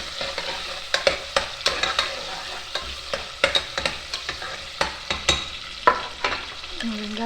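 Onions with bay leaf stir-fried in oil for mutton curry, a steady sizzle broken by repeated sharp scrapes of a spatula against the pan, close and clear with no talking.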